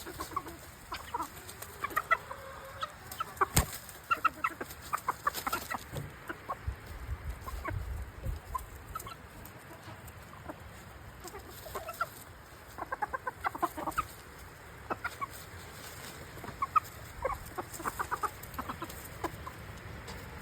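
Yard fowl hens clucking in a winter yard, scattered soft clucks and occasional sharper calls from several birds, fairly quiet against low outdoor noise.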